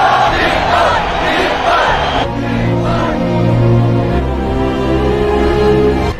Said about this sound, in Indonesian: Warga Fosan pun berteriak kegirangan.